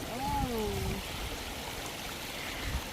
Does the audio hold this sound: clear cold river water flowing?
yes